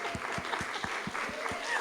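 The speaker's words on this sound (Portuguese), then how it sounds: "Palmas para nós que damos conta de tanta coisa" Group applause at a Mother's Day celebration, steady clapping from a small gathering with regular low thumps running through, moderately loud throughout.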